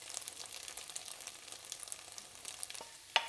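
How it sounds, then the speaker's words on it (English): Grated garlic fries in a hot pan with a soft, continuous crackling sizzle, punctuated by a few quick stirs and a sharp clack near the end. "And we'll fry this garlic up for about a minute"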